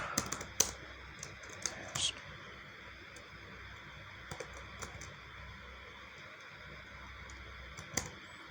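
A company name is typed on a computer keyboard: light, sparse keystrokes and a few louder taps sit over a steady background hiss, close and fairly quiet.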